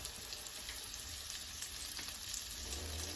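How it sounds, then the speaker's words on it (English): Beef sautés in a pan with oil and sesame oil, a soft, even frying hiss that stays faint and steady with no talk over it. "Let that saute for a bit, right?"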